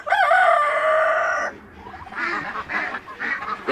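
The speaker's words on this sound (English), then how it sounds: "These are Indian runner duck, otherwise known as penguin duck." Indian runner ducks, also called penguin ducks, kept by crofters near the Calanais Standing Stones, call loudly in a sustained harmonic honking burst, then a jumble of quieter overlapping quacks and calls follows.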